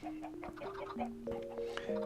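Chickens clucking in the Minecraft video game, a run of short tonal calls overlapping one another at steady moderate loudness, with no talk over them.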